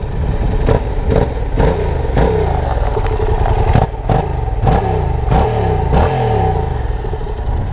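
A Yamaha MT-07 motorcycle engine revs repeatedly, with sharp throttle blips roughly every half second over a steady loud idle rumble, close by and with no talking.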